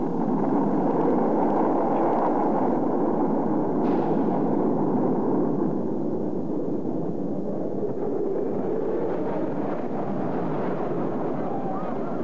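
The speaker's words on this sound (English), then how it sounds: "Ignition sequence start. Firing command coming in now." A rocket engine ignites and lifts off, producing a dense, continuous roar that holds steady and loud for the whole stretch, with only slight swells and no clear pauses.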